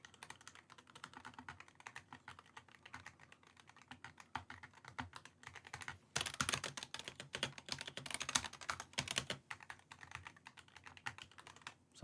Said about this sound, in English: Let's try Lamzu's Pro keyboard.